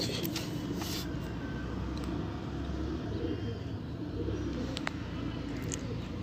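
Sialkoti high flyer pigeons cooing softly and continuously amid steady outdoor background noise, with a few faint chirps over the top.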